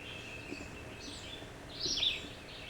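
Birds sing near a spring outdoors, faint high chirps and whistled notes over a quiet background, with one brighter call near the end.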